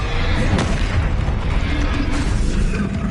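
Dense, loud bursts and booms from the Bombarda explosion spell in Hogwarts Legacy, a continuous roar of blasts and mechanical clatter with no pause across the whole stretch.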